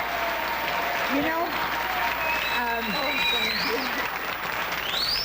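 Studio audience at a 1972 television talk show applauding, a steady dense wash of clapping that holds throughout, with a voice speaking over it.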